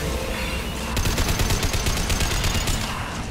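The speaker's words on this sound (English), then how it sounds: "Keep shooting him." Rapid automatic gunfire in the video game Mass Effect while shooting an enemy, a dense loud burst of repeated shots lasting a couple of seconds with no talking.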